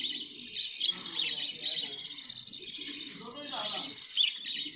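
Small birds chirp and tweet steadily close by, their high calls continuing throughout as people talk nearby.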